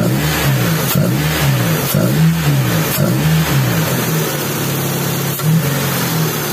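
Daihatsu Taruna EFI engine during a tune-up, revved in repeated short bursts about once a second, each rise and fall in pitch clear and close, then settling to a steady idle near the end; no talking.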